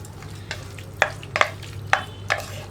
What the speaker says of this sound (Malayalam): ഇത് നന്നായിട്ടൊന്ന് ഇളക്കി മിക്സ് ചെയ്യുക.